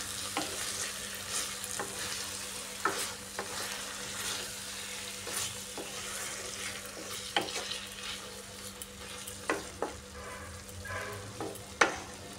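Chicken cooking in its own juices in a covered pan, with a steady low sizzle and occasional sharp pops and spatula clinks at irregular intervals.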